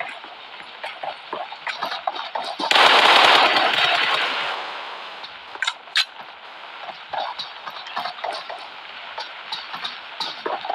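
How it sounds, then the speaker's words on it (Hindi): Sustained automatic gunfire bursts out loudly for a couple of seconds in a PUBG game, followed by scattered single shots and clatter in a busy game soundscape. "रवि का बच्चा इतनी गोलियां मारी फिर भी मरा नहीं"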